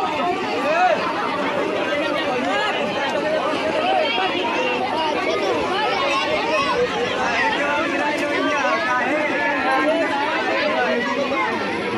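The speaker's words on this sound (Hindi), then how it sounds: "बहुत सारी भीड़ जमी हुई है" A large crowd at a village wedding feast produces a constant, loud babble of many overlapping voices, dense and close, with no single speaker standing out.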